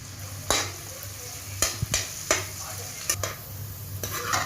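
Capsicum pieces, green chilli and carrot frying in a hot pan on high flame for egg fried rice, a steady close sizzle broken by several sharp scraping stirs of a spoon, no talking.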